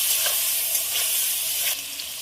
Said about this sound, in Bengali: সব কিছু দিয়ে খুব ভালোভাবে নেড়ে দেবো।